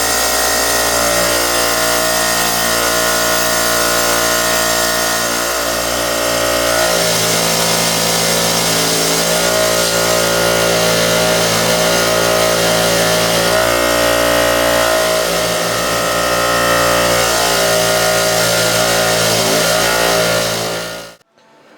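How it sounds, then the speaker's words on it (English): A wire brush scrubs steel suspension spindle parts, giving them a light polish: a steady, loud motorized whir with a harsh scratching rasp that holds for about twenty seconds before cutting off abruptly. "The wire brush puts a little bit of a polish on it and cleans them up real good."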